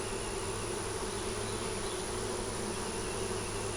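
Honeybees buzz continuously from an opened hive during an inspection, a dense, steady drone close by with no voices.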